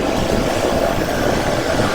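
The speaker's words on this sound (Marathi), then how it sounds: "मित्रांनो, आपली ट्रेन आलेली आहे" A commuter train pulls into Thane station in Mumbai, a steady broadband rumble and hiss at close range, continuous and fairly loud with no voices.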